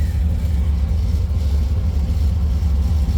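Supercharged 1968 Chevrolet Camaro with its engine idling on a hot day, a loud, close, deep rumbling idle with a steady lopey pulse and no voices.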